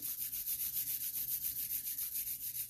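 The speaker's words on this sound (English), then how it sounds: "rub your hands together" Palms rubbing briskly together during a guided meditation, a soft steady swishing repeated in an even back-and-forth rhythm of about five strokes per second, close and quiet with nothing else heard.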